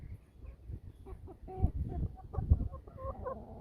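Chickens clucking close by in a busy, irregular chorus of short calls, with scattered louder squawks.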